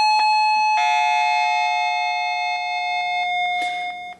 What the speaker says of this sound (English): you get the two chime tones on the inside station